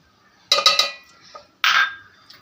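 Home-ground pepper powder tapped from a container into a bowl, giving two short clattering bursts of dry tapping on kitchenware, close and fairly loud with a brief pause between them.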